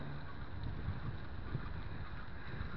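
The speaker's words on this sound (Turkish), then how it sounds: "Havada biraz rüzgar var." Steady wind buffets the microphone of a moving bicycle with a low rumbling roar, continuous and fairly close, with no voices.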